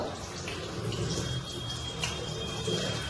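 Water runs steadily from a tap throughout while a face is rinsed after scrubbing, a continuous close splashing wash with light drips and no talk.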